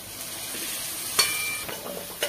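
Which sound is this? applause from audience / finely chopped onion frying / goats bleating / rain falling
finely chopped onion frying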